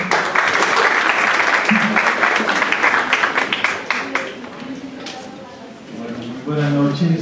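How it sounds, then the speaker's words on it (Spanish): An audience at a university event applauds a speaker. Dense, steady clapping fills the room, loud at first and then gradually fading as a voice begins to speak over it. "Recibámoslo también con un gran aplauso"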